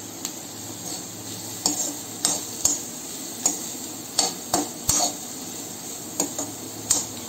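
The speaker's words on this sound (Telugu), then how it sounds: "బటర్ కరిగిన తర్వాత ఆనియన్స్ వేసుకొని ఆనియన్స్ని వేగనిచ్చాలి." Onions frying in melted butter in a pan, a soft steady sizzle with repeated sharp clicks and scrapes of a spoon stirring against the pan at irregular intervals.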